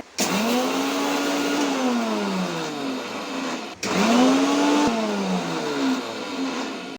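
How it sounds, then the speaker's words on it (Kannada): A mixer grinder loudly grinds a dry spice mix of coriander seeds, cumin, fenugreek and pepper, whirring with rising and falling pitch in two bursts separated by a brief pause, no voices. "ಇವಾಗ ಧನಿಯಾ ಕಾಳು, ಜೀರಿಗೆ, ಮೆಂತ್ಯ, ಮೆಣಸು ಇವಿಷ್ಟನ್ನು ಪೌಡ್ರ್ ಮಾಡ್ಕೊತೇನೆ"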